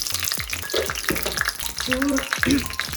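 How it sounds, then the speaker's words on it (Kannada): Chili and mustard seeds fry in a spoonful of oil for a tempering for fenugreek thambuli, close crackling and spattering with scraping stirs and clinks throughout. "ತಂಬಳಿಗೆ ಒಗ್ಗರಣೆ ಹಾಕೋಣ. 1 ಸ್ಪೂನ್ ಎಣ್ಣೆ,"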